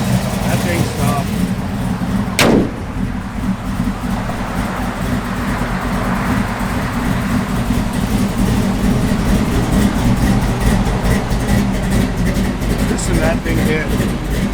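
A 1971 Chevrolet C10 pickup engine idles steadily with a low, continuous rumble throughout, one brief sharp click near the start, and people talking over it.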